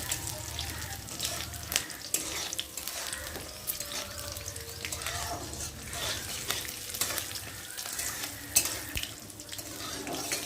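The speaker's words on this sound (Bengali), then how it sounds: "আর দিয়ে দেবো বাদাম, একটু ভালো করে ভেজে নেব।" Peanuts frying in a pan for a spicy semolina dish, giving a steady crackling sizzle with stirring scrapes and clatter throughout, close by, with no one talking.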